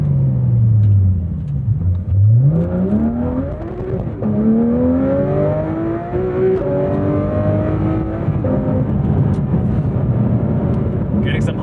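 A Porsche 718 Spyder RS or 911 991.2 GT3 RS with PDK accelerating hard on a wet track, the engine note climbing through quick gearshifts, loud and close, with voices talking over it.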